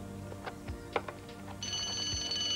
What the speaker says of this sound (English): Did you ring that bell?